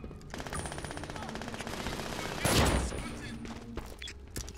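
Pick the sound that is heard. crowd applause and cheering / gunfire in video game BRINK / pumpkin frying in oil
gunfire in video game BRINK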